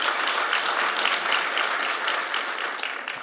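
Crowd clapping at a live podcast event, a dense, steady burst of applause from an audience that carries on evenly for a few seconds before starting to fade.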